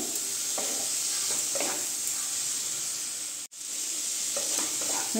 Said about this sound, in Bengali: এখন ভালো করে ফুলকপিটা আমি মিক্স করে নিই সব মশলার সঙ্গে